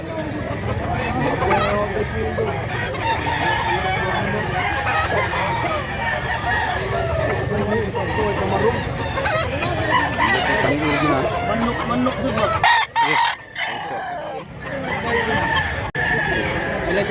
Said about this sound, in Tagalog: Napakagandang mga manok.